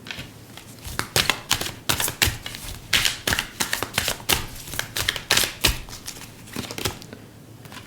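Tarot cards are shuffled close up in a quick run of crisp riffling taps and flutters, steady and clear with nobody talking.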